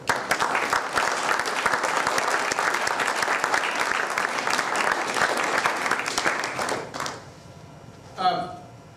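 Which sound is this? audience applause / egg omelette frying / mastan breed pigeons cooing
audience applause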